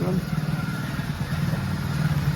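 A motorcycle rides through narrow village lanes on the way to the gym, its engine giving a steady, close, throbbing rumble throughout, with a faint voice mixed in.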